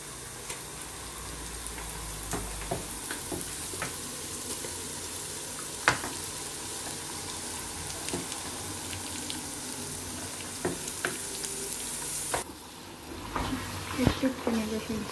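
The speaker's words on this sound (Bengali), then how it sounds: "পেঁয়াজটা ভাজা হয়ে গিয়েছে, এখন দিয়ে দিব মাংসগুলো।" Mutton hits browned onions in a pan and sizzles steadily, with occasional stirring clicks and scrapes, a brief dip near the end, and a voice talking over the frying.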